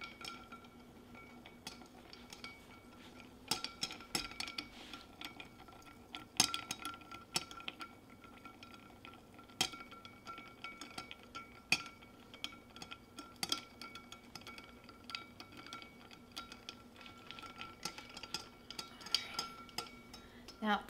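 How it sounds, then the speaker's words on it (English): A cocktail is stirred with ice in a mixing glass, producing soft, irregular clinks and taps of ice against glass and spoon, quiet and close, continuing unevenly throughout. "Now you want to stir it until it's nicely chilled and a little bit diluted."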